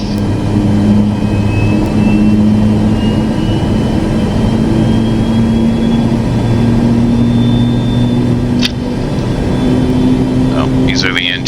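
Airplane engines starting up and spooling up before taxi, a steady loud whine and hum with rising tones that fill the whole stretch.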